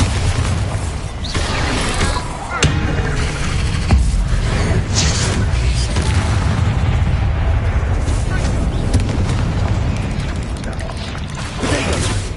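Booming blasts from a Bombarda explosion spell in a wizard video game, loud and dense, rolling one into another over constant battle noise and other spell effects, with a voice calling out spells.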